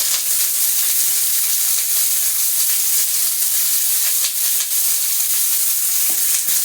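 Chopped onion sizzling in a hot pan with dried chilli, a steady bright frying hiss held close and even throughout, with faint stirring scrapes near the end.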